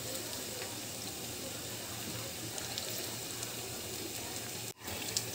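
Chicken frying in mustard oil or refined oil in a pan for chicken chili, a steady close sizzle running throughout with a brief dip near the end.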